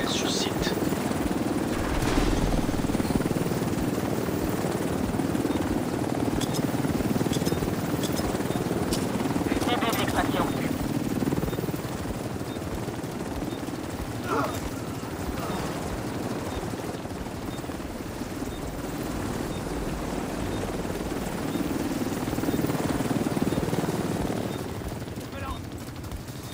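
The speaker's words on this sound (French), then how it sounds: "Hélico prêt pour ramassage. Hélicoptère sur site." Video-game helicopter arriving on site for a pickup during a manhunt match: a loud, steady rotor roar with engine whine fills the whole stretch, with scattered crackling bursts like distant gunfire and voices mixed in.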